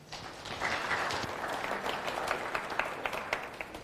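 A conference audience applauds the speaker Michael, a moderate burst of many hands clapping that sounds fairly distant and soft, continuing steadily for a few seconds without voices.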